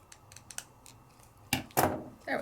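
Scissors snip through paper in several short, sharp cuts, a few light clips early on, then louder, fuller snips near the end in a quiet room.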